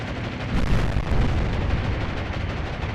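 Bombs burst in a dense, rumbling roar during a naval battle in Atlantic Fleet, a continuous heavy wash of explosions with no voices.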